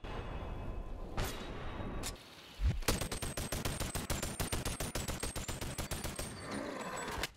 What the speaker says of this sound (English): your gun automatically shoots without you even needing to pull the trigger